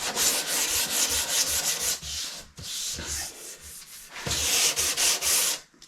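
Sandpaper rubs steadily against a turned wooden cup, a close, continuous raspy hiss that swells and fades in long strokes with brief pauses between passes.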